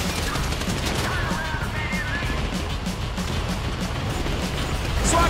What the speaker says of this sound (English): So I guess we're shooting our way out of here